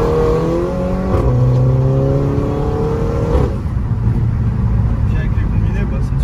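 A car with a decat exhaust revs hard with strong harmonic engine tones that rise and fall, loud and close, then drops to a rougher idle. People talk over part of it.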